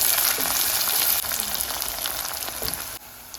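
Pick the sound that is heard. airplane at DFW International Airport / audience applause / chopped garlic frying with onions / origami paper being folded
chopped garlic frying with onions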